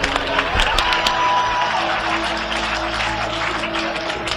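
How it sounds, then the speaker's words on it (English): Worshippers in a large congregation at a Myles Munroe sermon clap their hands, a loud steady crowd rustle of clapping with scattered cheers and voices mixed in. "You might as well clap your hands"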